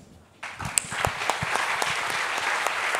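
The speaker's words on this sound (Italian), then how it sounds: "è stato l'applauso più passionale della mattina" After a brief quiet start, an audience at a morning conference breaks into passionate applause, a full steady wash of clapping that swells and holds to the end.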